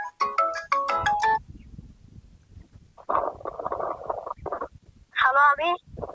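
A mobile phone ringtone plays a bright melodic tune in two bursts, one at the start and one near the end, with low rumbling noise and indistinct talking in between.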